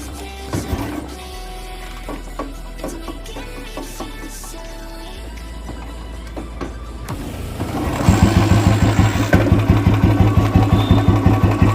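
A Royal Enfield Machismo 350 single-cylinder motorcycle ticks over with a quiet, uneven mechanical clatter, then grows louder after about eight seconds into a fast, steady thumping rhythm close by on a beach.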